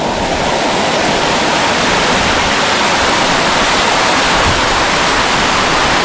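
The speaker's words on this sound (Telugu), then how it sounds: "మనం ఈ యొక్క వాటర్ ఫాల్ నుంచే వెళ్ళాలి. వాటర్ మాత్రం పిచ్చి ఫోర్స్తో వస్తాయి వాటర్." Forceful waterfall on the path to Visapur fort during heavy monsoon rain, a loud, unbroken roaring rush of falling water, very close and constant throughout.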